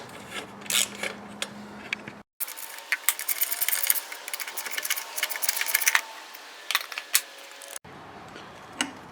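A wrench removes the muffler bolts on a Tecumseh-powered lawn mower, producing close metallic clicks, rattles and ratcheting clatter in uneven bursts, with no talking.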